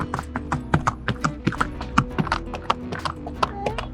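A horse walks on sandy beach ground along the river at Rishikesh, its hooves clip-clopping in a steady, close rhythm, with faint voices in the background.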